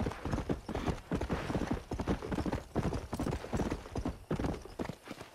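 Rapid clip-clopping of a horse's hooves in the Red Dead Redemption video game, a steady galloping rhythm of dense hoofbeats, moderately loud and close, with no talk over it.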